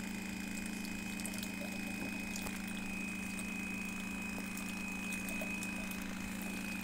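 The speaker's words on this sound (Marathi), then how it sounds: "आता मी बूस्टर पंप बंद करते।" A Kangen water machine's booster pump runs during a citric acid cleaning cycle, giving a steady, close mechanical hum with a constant tone, alone and unchanging throughout.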